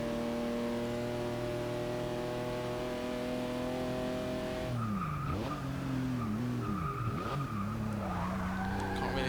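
Porsche race car in Forza Motorsport 6 holds a steady high engine drone, then shifts into wavering revs with sharp tire squeals and skids, loud and close throughout.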